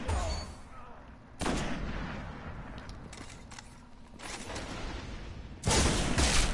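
Sniper rifle shots in Destiny's Crucible multiplayer ring out as a few sharp, loud cracks with booming tails, spaced a couple of seconds apart amid game background noise.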